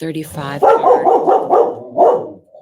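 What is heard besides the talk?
dog barking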